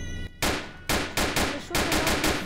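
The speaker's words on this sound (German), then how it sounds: "Bro, wir schießen einfach mal." Gunfire in the Roblox game Notruf Hamburg: roughly eight sharp, loud shots in quick, uneven succession, each cracking out and decaying, with no voices.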